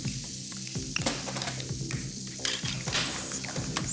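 Calf liver sizzling in a hot pan, a loud close crackle with steady frying hiss and occasional clinks of utensils, no talk.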